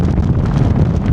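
Strong storm wind of 50-plus mph gusts roars loudly and continuously against the microphone around a Fjern Stormgrotta 1.5 tent, a dense, rumbling buffeting with no voices.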